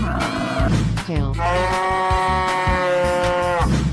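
A cow moos in an animal slide video game. One long, loud, drawn-out bellow plays over steady game music.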